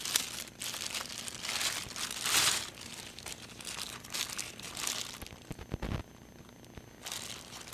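Plastic packaging is crinkled and pulled off a Planet Audio TRQ622 Torque 6.5-inch speaker, giving close, fairly quiet bursts of crackling and rustling with a brief pause and a sharper tear near the end.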